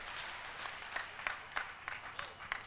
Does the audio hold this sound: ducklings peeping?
no